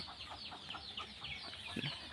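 Farm chickens in a poultry shed housing about 1000 birds cluck in a dense, continuous chorus, with scattered calls layered over a steady background murmur.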